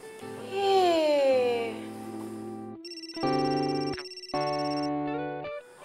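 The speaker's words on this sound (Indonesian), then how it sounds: "Telepon dari siapa tuh?" A mobile phone plays a melodic ringtone of bright, stepped electronic notes in an Indonesian TV drama scene, following a brief voice-like sliding sound at the start.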